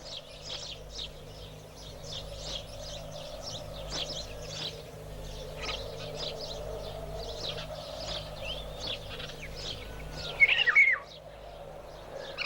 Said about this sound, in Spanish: Andan también los gorriones muy ocupados con sus bodas